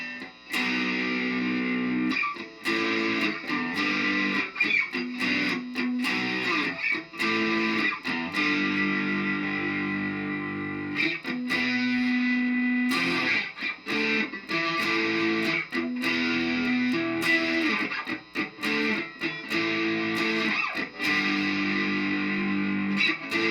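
A Firefly Madcat electric guitar plays with heavy distortion, chords and notes struck in a choppy, stop-start pattern with brief gaps between phrases.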